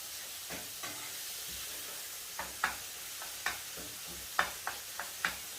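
Vegetables sizzle and fry in a hot pan for ackee and saltfish, a steady hiss broken by a scatter of sharp clicks and scrapes as they are stirred, close by with no talk.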